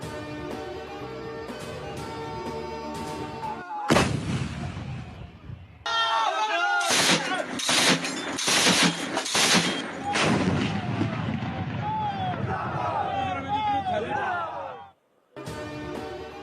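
Artillery and a Pakistani army 12.7 gun fire in heavy bursts: sharp, loud blasts and rattling volleys separated by short pauses, with babble and voices mixed in around the shots.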